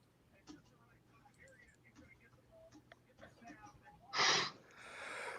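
A sharp burst of a sneeze rings out near the end, followed by a softer breathy rush, with faint murmured voices and small sounds before it.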